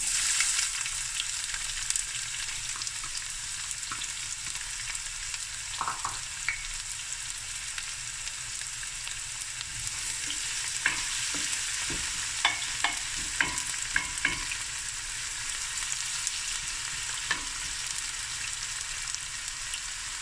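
Onion fries in oil with cinnamon sticks, cardamom pods, a bay leaf and crushed chilies for prawn akhni, a steady close sizzle with occasional spoon scrapes and light clicks against the pot.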